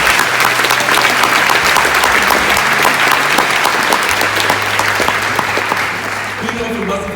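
A seated audience at a university event applauds strongly and steadily, a dense wash of clapping that fades slightly near the end, with a low hum underneath.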